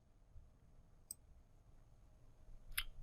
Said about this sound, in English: you can hit Control C, Control V on your keyboard